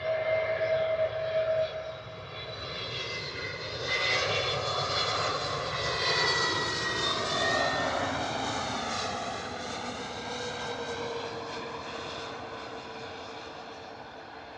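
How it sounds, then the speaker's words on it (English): An EasyJet Airbus A320neo comes in to land at Bristol Airport in wet, stormy weather, its engines giving a loud, sustained whine with sweeping tones that swell and slowly fade, heard alone without talk. "Here we go, A320neo coming in. Look at those Neo engines, eh?"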